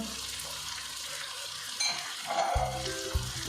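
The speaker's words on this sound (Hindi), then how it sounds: "अब इनको अच्छी तरह से हिला लें और इनको अच्छी तरह से भून लें।" Chicken with tomatoes and green chillies frying in a pan for karela gosht, a steady close sizzle with stirring scrapes and a louder burst of spatter and clatter in the final second.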